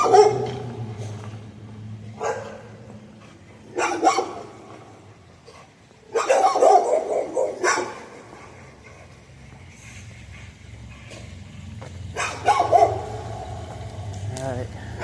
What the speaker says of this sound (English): Those dogs are not helping.